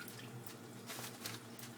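A small kitchen tap runs water into a sink, a steady soft trickle with faint dripping, heard close and quiet with no talk.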